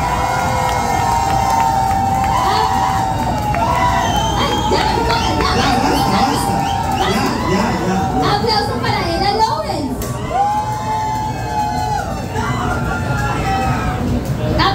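At a drag queen competition, a crowd cheers for contestant Valentina Montenegro with loud, sustained shrieks, whoops and high-pitched yells layered over a busy background of clapping and chatter.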